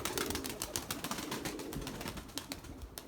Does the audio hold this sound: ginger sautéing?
no